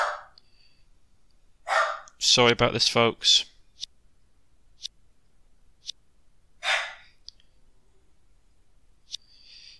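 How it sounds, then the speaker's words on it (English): A dog barks a few times in the background, short sharp yelps near the start and again later, while someone talks briefly between them. "I can't do anything about the dog barking."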